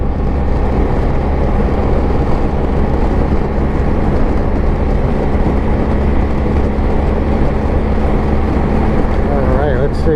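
A BMW R1250 GSA motorcycle cruising in fourth gear at about 4,500 rpm and 60 on back country roads gives a loud, steady engine drone mixed with heavy wind rush, unbroken throughout and close to the rider.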